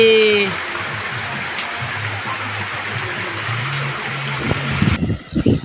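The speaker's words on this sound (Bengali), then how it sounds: "দেখো কি দারুণ বৃষ্টি হচ্ছে" Heavy rain falling outdoors in hot weather makes a steady broadband wash under a low hum, with a few clattering sounds at the end.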